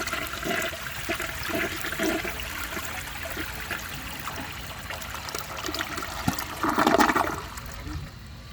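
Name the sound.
vintage toilet flushing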